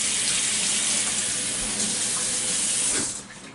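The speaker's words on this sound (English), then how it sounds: "I'm gonna go ahead and wash off my knife really quick" Tap water runs in a steady, hissing stream as a knife is rinsed at the sink, close and continuous before tapering off at the end.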